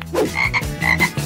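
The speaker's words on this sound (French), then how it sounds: "La grenouille." A frog croaks in a quick run of raspy, rattling calls, close and clear with no voices over it.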